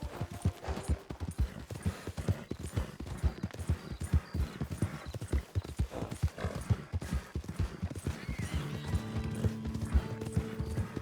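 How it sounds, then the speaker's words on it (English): A horse gallops hard in the Red Dead Online video game, its rapid rhythmic hoofbeats close and loud, with a short whinny and mechanical game sounds mixed in toward the end. "now I'm pushing my horse hard again"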